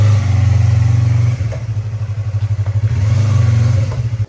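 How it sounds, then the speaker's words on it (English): A Yamaha YZF R3 motorcycle engine idles loudly up close just after starting, with a steady low throb that dips into a pulsing, uneven rhythm midway before smoothing out again. "So yep, just look at the bike. It has just started in one go."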